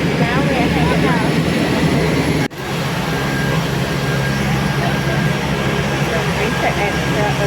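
A small plane's engine drones loudly and steadily during takeoff in Guyana, a continuous cabin roar with a brief sharp break partway through and voices faintly under the noise.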